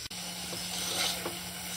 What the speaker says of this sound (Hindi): चिकन को हम 5 से 7 मिनट ऑयल के अंदर फ्राई कर लेंगे।